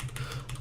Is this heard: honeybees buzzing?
no